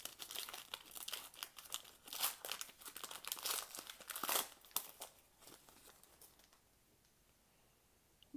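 Cardboard and plastic packaging of a football card mystery box is torn and crinkled open by hand, a burst of close rustling, ripping and crackling that fades into quiet handling near the end.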